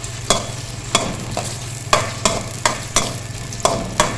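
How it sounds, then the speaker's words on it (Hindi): Onions sauté in a mix of ghee and oil under a continuous sizzle. A spoon scrapes the pan in sharp, regular strokes roughly every half second, close and clear, with nobody talking. "प्याज को हमने सिर्फ सौते करना है, ठीक है। इसका कच्चापन ख़त्म करना है"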